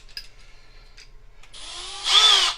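A Milwaukee M12 Fuel hammer drill/driver fitted with a 5/32 bit spins up after some quiet handling clicks, its whine building into a loud, close, steady high-pitched run for about a second before easing off.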